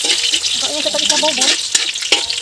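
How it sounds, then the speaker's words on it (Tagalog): Pancit noodles frying and being stirred in a pan at an outdoor snack gathering in a mango orchard, a steady close sizzle with scraping stir strokes and faint background voices. "Nagsimula na si Los magluto sa kanyang pansit."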